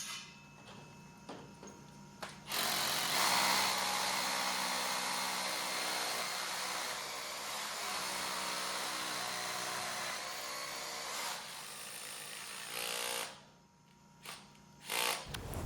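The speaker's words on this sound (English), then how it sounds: "We're drilling this out with a 1/4-inch SDS bit" A power drill with a 1/4-inch SDS bit bores into concrete during commercial water booster pump repair, a loud sustained grinding whine running for about ten seconds after a quieter start, then stopping and restarting in short bursts.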